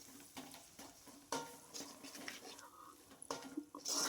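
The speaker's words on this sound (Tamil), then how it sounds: "இதை நல்லா வதக்கி விட்டுக்கோங்க." A spoon stirs and sautés onion masala with coriander and chili powder in a pan for a lentil-ball curry, soft scraping and light sizzling in short irregular strokes, close and fairly quiet.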